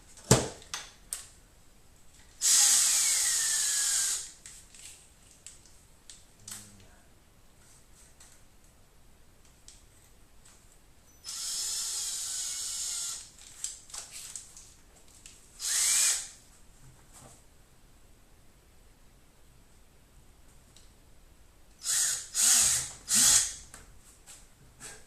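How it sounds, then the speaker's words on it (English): A power drill boring a small pilot hole into a plastic fermenter, heard in several short, loud whining bursts separated by quiet pauses, close by and with no talk. "I might drill a little pilot hole first."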